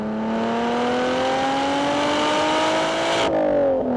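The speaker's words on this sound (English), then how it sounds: "You can hear the induction noise right here." A Lotus Evora GT's supercharged 3.5-liter Toyota V6 accelerates with a steady rising engine tone and whining induction note, then cuts off sharply near the end, clear and without talk.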